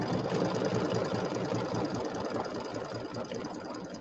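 An embroidery machine sewing satin stitches on a spring-themed settee pillow, a steady rapid mechanical chatter and hum running continuously at close range, no voices.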